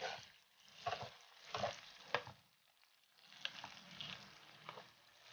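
Cleaned shrimp fry in garlic butter and oyster sauce while being stirred in a pan, giving soft sizzling with several distinct scraping strokes and bursts of spattering, fairly quiet and close, with no talking.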